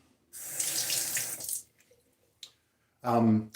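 Tap water runs into a sink for a rinse during a wet shave, a steady close splashing stream that stops, a brief quiet with a small knock, then the faucet turns on again briefly.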